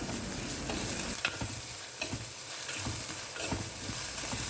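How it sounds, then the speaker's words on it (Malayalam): Green chilli and crushed shallots sautéing in hot oil in a pan, a steady close sizzle broken by scraping stirs of a spoon, no voices present. "ഇത് എണ്ണയിൽ നന്നായി വഴറ്റിയെടുക്കുക"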